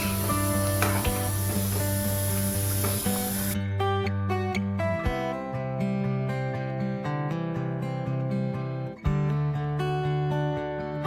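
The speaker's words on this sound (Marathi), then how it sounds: "तव्यावर बटर टाकले आपण." Butter hisses and sizzles on a hot tawa for pav bhaji, a dense, loud frying sound that gives way after a few seconds to background music.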